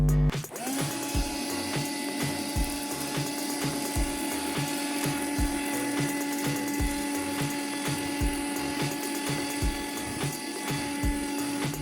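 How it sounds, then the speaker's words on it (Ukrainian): A homemade cordless mini vacuum cleaner runs with a steady whine while it picks rice off a wool blanket, and rattling, clicking pickups of grains sound repeatedly through the motor hum. "розсипавши рис на вовняний флет. І подивимося, як пилосос прибере його."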